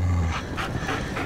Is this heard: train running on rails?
no